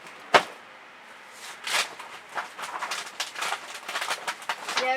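Dried fluid acrylic paint skin peeled up off a pour surface, a string of soft ripping crackles and sticky tearing pulls after a sharp initial snap, close and fairly quiet with no talk.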